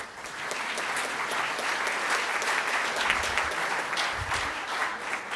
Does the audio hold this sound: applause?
yes